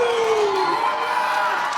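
A crowd at a live indie wrestling show at a brewery roars and cheers loudly, with a dense, sustained wash of voices and a rising shout near the start.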